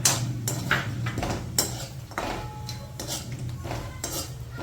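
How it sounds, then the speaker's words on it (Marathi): Grated coconut dry-roasts in a pan for a black masala blend, with soft, repeated scraping and tapping of a spoon against the metal as it is stirred, fairly quiet and close. "खोबरं चांगलं ब्राऊन होईपर्यंत भाजायचं चांगलं"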